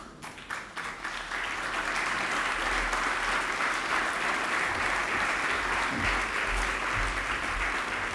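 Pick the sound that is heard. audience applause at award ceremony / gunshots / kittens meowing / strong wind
audience applause at award ceremony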